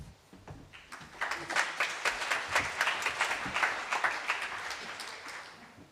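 Audience applause after a speaker is introduced at an environmental rights summit, a dense crowd clapping that swells after a second and holds steady, moderately loud throughout.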